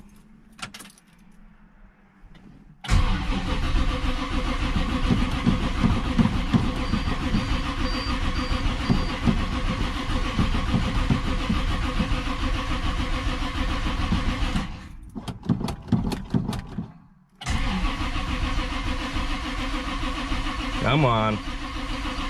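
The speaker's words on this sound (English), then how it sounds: "let's fire this thing up. All right, we should have good cranking power because we just charged the battery last week." A 1968 Oldsmobile Cutlass with a freshly charged battery cranks at length, catches and settles into a loud, steady idle close by, with one brief stumble partway through and a short voice over the running engine.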